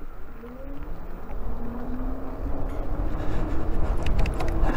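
A Heybike Brawn off-road e-bike accelerating under throttle, its motor whine rising steadily in pitch over wind and tire rumble that grow louder as speed builds.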